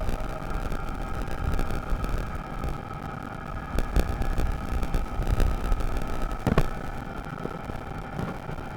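Aircraft engines in Microsoft Flight Simulator 2020 give a steady, fairly loud drone with a rough, broadband rumble and a constant tonal hum. It holds unbroken throughout, with a brief brighter swell near the end.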